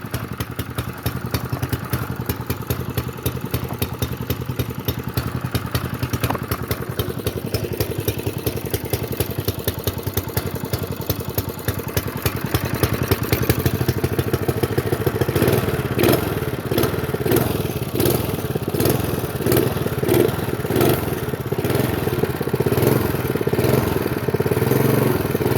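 A Motovox minibike's Honda GX120 single-cylinder engine runs close by, first idling with a rapid, even putter and then rising into louder, rougher revving bursts with a harsh exhaust rasp.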